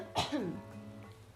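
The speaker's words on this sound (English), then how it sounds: "So hold on, I have to cough." A person with COVID coughs once, a sharp, close throat-clearing burst followed by a brief rough exhale, then near quiet with faint background hum.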